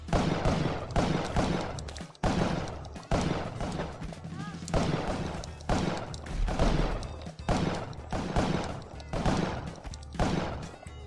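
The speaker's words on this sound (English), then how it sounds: "Oh, we got him with the explosion." Explosions go off in the Spelunky video game as a string of loud, punchy bursts repeating every second or so, with a voice heard at times between them.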